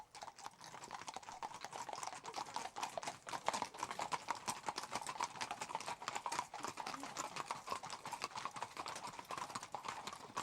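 Horses on a riding trek clip-clop along in a steady, continuous rhythm of hoofbeats, fairly faint and unaccompanied by talk.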